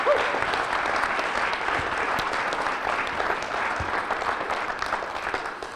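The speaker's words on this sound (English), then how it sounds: "Give that guy a round of applause." An audience claps steadily for the whole stretch, a dense wash of many hands at an even, loud level with a faint crowd murmur underneath.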